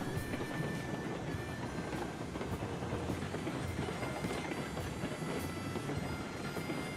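Locomotives in a train simulator game, a steady rail rumble with a faint rhythmic clickety-clack and a thin tonal whine, continuous and even throughout, without talk.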